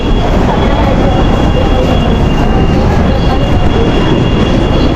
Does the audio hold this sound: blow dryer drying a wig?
no